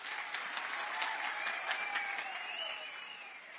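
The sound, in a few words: crowd applause at political rally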